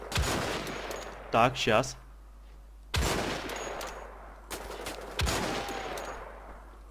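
Gunfire in the video game Wolfenstein: The Old Blood: several loud, sharp shots with ringing, decaying tails, spread across the stretch, with a short burst of speech between the first and second shots.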